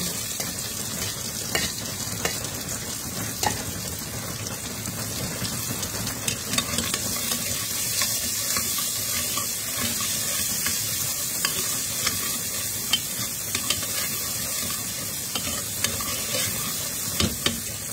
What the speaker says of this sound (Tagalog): And then, ilalagay ko na yung bawang at sibuyas.